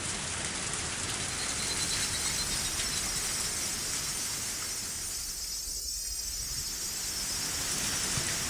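A torrential downpour rolls through the Higurashi visual novel: dense, loud, unbroken rain with a low thunder rumble swelling near the end, and no voices.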